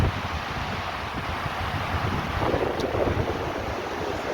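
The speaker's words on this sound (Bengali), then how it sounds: "ঠান্ডা হাওয়া" Cold wind gusts along the Gangotri to Gomukh mountain trail, a loud, steady broadband roar buffeting close against the microphone, with no speech.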